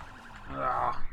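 Wailing siren in the open-world driving game Sleeping Dogs, a rising, sustained tone swelling louder toward the end over a low rumble of game noise.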